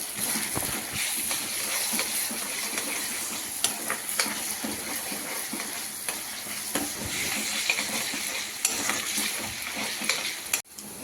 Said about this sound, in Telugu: ఇలా అల్లం వెల్లుల్లి పేస్ట్ వేసుకొని ఒక 2 మినిట్స్ బాగా ఫ్రై చేసుకోవాలండి,